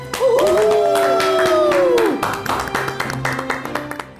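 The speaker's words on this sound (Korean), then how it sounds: "큰 박수 부탁드립니다" A short swooping tone gives way to scattered clapping from a lecture audience welcoming the speaker, light and uneven, fading out after a few seconds.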